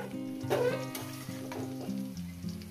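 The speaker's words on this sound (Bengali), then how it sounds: "আরো আমি 5 মিনিট ধরে এটাকে আমি ভেজে নেব।" Potato and pumpkin shoots frying in a pan with a steady close sizzle, a low tonal hum running underneath throughout the short stretch.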